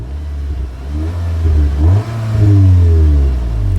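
A 2019 VW Golf R Mk7.5 in Race mode revved while stationary, loud and close, the engine climbing in pitch, dipping briefly, then surging to a sustained high rev.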